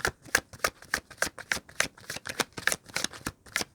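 Tarot cards are shuffled close up in a quick, even rhythm of crisp riffling flutters, about a dozen in a row, with no voice.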